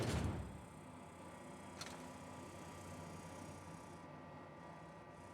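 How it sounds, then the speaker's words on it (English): A barred door is unbarred and swung open in The Outer Worlds video game, with a soft thud at the start and a fainter clunk shortly after, all quiet and without talk. "Okay, unbar the door here."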